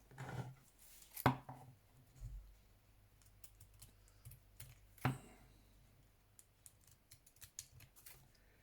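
Paper envelope tag being trimmed for a craft project, giving two sharp snipping cuts several seconds apart with lighter clicks and rustles between, close and fairly quiet.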